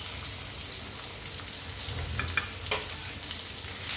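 Chopped onion, garlic and peanuts sizzle steadily in a hot pan, a soft continuous hiss with faint crackles and a brief stir, no voices.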